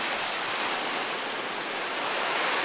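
Waves on Lake Superior crash against large shoreline boulders, a loud, continuous roar of surf and spray close by, with no voices over it.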